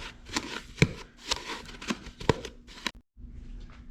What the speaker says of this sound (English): Then we're going to give this a little mix.